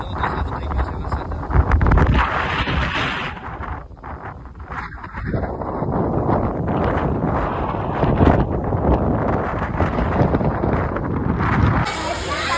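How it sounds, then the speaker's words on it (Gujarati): Strong stormy wind buffets the microphone in a continuous loud roar over farmland, with light rain just beginning underneath, no voices present. "તો પવન કેટલો બધો આવે છે ને વરસાદ પણ શરૂ થઈ ગયો છે."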